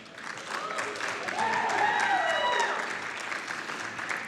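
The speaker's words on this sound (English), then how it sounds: "Everybody, let's give another round of applause to Spike, Vegeta, Shockwve, and Humphrey." A Summer Games Done Quick 2023 speedrunning charity event audience applauds, with dense, sustained clapping mixed with whistles and cheers that swell, then taper off.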